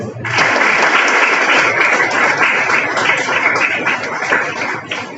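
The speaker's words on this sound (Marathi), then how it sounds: "एकदा आपल्या शिक्षकांसाठी टाळ्या" An audience at a children's drama training camp applauds for the teachers with loud, dense clapping that starts abruptly and holds steady for about five seconds.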